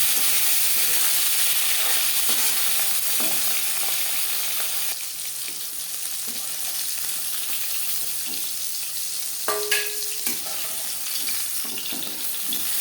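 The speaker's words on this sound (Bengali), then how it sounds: "মাছ ভাজা হয়ে গেছে" Rui fish pieces frying in hot oil in a pan, a steady dense sizzle running throughout with occasional soft clinks of a utensil; no one speaks.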